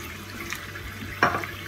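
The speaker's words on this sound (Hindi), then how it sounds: "अब मैं इसमें बिल्कुल थोड़ा सा पानी डालूंगी" A little water is poured into sizzling kofta masala after it has been fried until the oil separates, giving a short splashing burst near the end over a quiet kitchen background.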